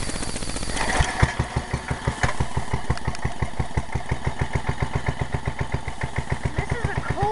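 A JCPenney riding lawn mower engine turns over on a cold start, then settles into a fast, steady chugging idle with regular pulsing beats, loud and close, running alone for several seconds.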